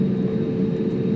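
A steady low engine drone comes from an AirAsia airliner as it prepares to take off, loud and unbroken with a constant hum and no talk over it.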